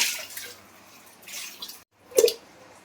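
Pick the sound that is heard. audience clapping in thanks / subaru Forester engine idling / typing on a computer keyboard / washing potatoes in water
washing potatoes in water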